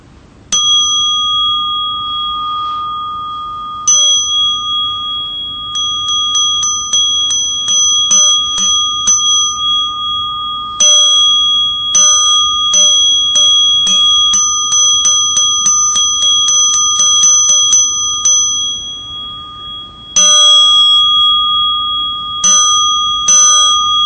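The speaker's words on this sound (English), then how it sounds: "First, with a sound, the wordless sound of a bell." A bell rings in long runs of rapid, bright, sustained strikes with short pauses between bursts, loud and clear and alone, no voices.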